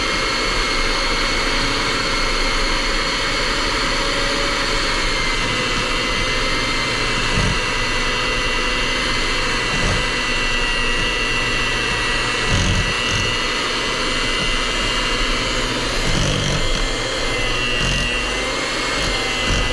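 Electric hand mixer running at low speed, beating cocoa powder and powdered sugar into cupcake batter: a steady, close whirring drone that lasts the whole stretch, broken by a few faint knocks of the beaters against the bowl.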